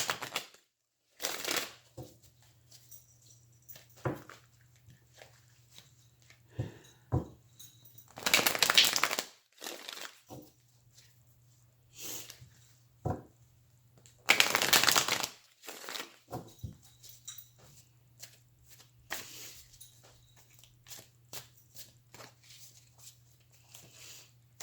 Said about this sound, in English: I'm just going to keep pulling cards until I get to one of those marriage indicator cards